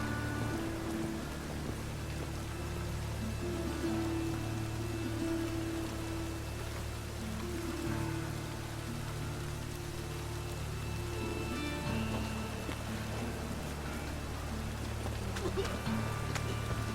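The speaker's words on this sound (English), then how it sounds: "Rain again." Rain falls steadily in the video game The Witcher III, a soft continuous patter with a low background drone, faint and even from start to finish, with no speech.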